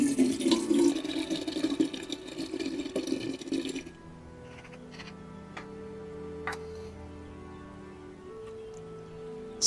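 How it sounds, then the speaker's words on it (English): Water pours onto the soil around newly planted damask roses, splashing steadily for about four seconds before stopping, leaving a quiet outdoor background with faint ticks. "So I'm just watering as close to the surface as possible, trying to avoid wetting the leaves"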